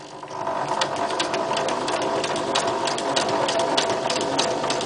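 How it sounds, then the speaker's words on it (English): A sewing machine runs slowly doing zigzag stitching through card, giving a steady close mechanical hum with evenly spaced rhythmic needle ticks throughout and no talking. "So I go very, very slowly when I'm doing the zigzag stitching, because I hate it when it goes slightly wonky."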